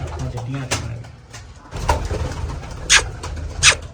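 Pigeons kept by an army man coo softly in short, low murmurs close by, with a few sharp clicks and wing-like bursts and people talking quietly nearby.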